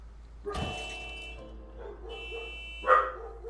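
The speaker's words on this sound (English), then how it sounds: "I got a fucking dog in the house" A dog barks inside a house in the video game The Cat Lady: one sharp bark near the start and a brighter yelp near the end, both over a low steady hum with no talking.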